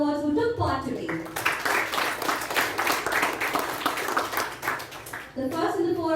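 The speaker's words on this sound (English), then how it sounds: "let's give a big round of applause to all the Star Wars who took part today" A round of applause from a group at a youth speaking contest swells after a voice and lasts several seconds before talk resumes, with speech briefly heard at the start and end.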